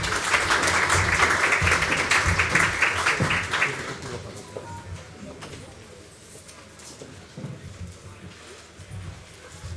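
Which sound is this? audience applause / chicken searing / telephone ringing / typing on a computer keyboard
audience applause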